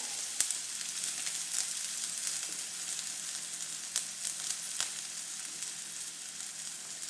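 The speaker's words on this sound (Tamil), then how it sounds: "வெறும் வெங்காயத்தை மட்டும் போடுறேன்" Sliced onions fry in hot oil with no mustard seeds, giving a steady close hiss of sizzling broken by a few sharp pops and crackles.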